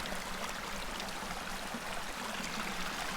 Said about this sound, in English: Splish, splash. Across the creek I go.